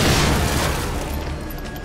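A heavy explosion in the horror game Psycho Break (The Evil Within): a deep, loud boom already underway that rumbles and slowly fades over roughly two seconds.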